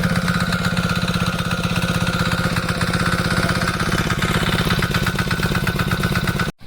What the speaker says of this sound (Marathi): ट्रॅक्टरांपण इकडे नांगरणी केली जाता